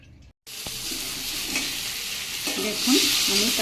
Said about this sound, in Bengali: দেখুন আমি কাঁকড়াটা রান্না করছি।